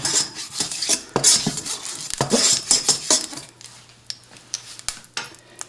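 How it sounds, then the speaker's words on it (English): A spatula scrapes and clinks against a pan while spreading a tablespoon of canola oil before frying fish, giving quick close metallic taps and scrapes that thin out into sparse light clicks. "And I just want to mix that in with my spatula"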